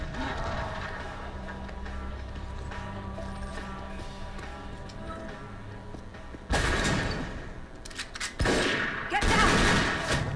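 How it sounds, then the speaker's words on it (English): Gunfire in the video game Tomb Raider Legend, starting as muffled rumbling shots under game music and turning into loud, dense bursts of rapid fire in the second half. "Just shooting bad guys."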